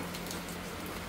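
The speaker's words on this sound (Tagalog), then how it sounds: "tignan niyo po, oh, lakas ng unang ulan po" Heavy first rain of the season falls in a steady, dense hiss that holds even and unbroken for the whole moment, with no voices.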